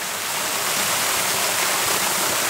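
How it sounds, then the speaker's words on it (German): A waterfall inside a long cave, the Hagheerenloch near Bauma in the Zürcher Oberland, gives a steady, loud, broadband rushing roar with no pauses and no voices. "Links und rechts hat es einen Wasserfall."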